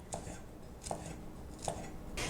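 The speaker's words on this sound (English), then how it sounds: "Now we're going to get started by chopping up these sage leaves." A knife chops fresh sage leaves on a cutting board in a home kitchen, giving four slow, evenly spaced thuds close by, with no talking.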